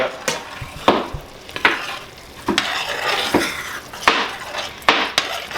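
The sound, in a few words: stirring ground meat with enchilada sauce in a pan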